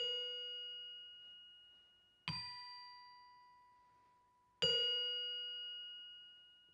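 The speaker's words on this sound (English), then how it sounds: "Our wrenchophone doesn't have a very wide range," A wrench struck as a wrenchophone, sounding its lowest note: three separate metallic clangs spaced about two seconds apart, each bright and ringing before slowly fading.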